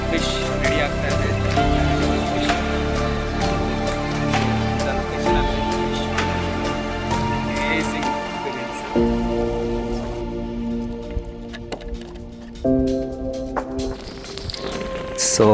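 Evening rain falls on the bank of the Tungabhadra river, a continuous patter of drops heard under steady tonal background sound, with occasional louder drips and splashes.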